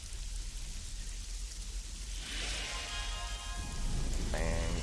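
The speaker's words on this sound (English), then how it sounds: "Here it's raining." Rain falls in the fantasy role-playing game Sacred 2, a steady hiss that swells and brightens about halfway through and stays dense and close, with no voices over it.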